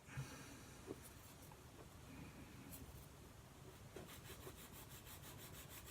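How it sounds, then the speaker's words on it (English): Quiet, rhythmic scraping strokes as a small 1/72 plastic model kit part is sanded by hand with a sanding stick, close up and faint. "Good old Flory sanding stick."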